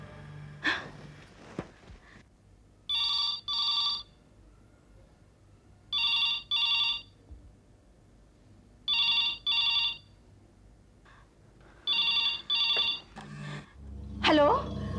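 A telephone rings repeatedly in regular double trills, four rings in all, with a gasp or sharp breath before and after.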